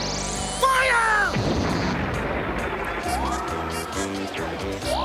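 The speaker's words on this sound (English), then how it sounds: "Load the cannon!" Cartoon cannon blast in an animated battle scene, a loud booming burst with a falling whistle, followed by busy rumbling chaos and scattered comic effects.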